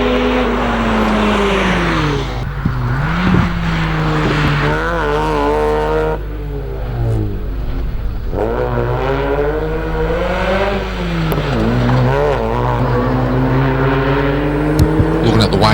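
A Mazda MX-5 race car leaves a chicane at a lakeside hillclimb, its engine revving hard and rising through several gear changes, loud and close, with a commentator talking over it.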